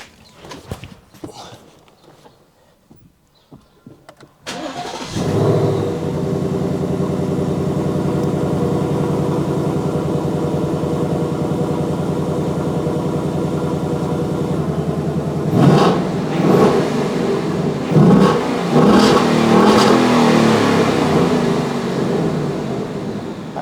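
A car engine with a stock exhaust, before an H-pipe upgrade, starts up about four seconds in and settles into a steady, loud rumble. Later it is revved in several sharp bursts, with faint handling noises at the start.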